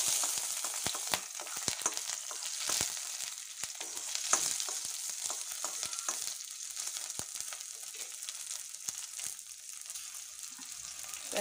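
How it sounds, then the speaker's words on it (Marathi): Crushed garlic, green chilies, cumin and mustard seeds fry in hot oil, giving a dense close sizzle dotted with sharp popping crackles and occasional stirring scrapes, steady throughout with no talking. "आपली मोहरी, जिरं, लसूण छान तळतळलेलं आहे."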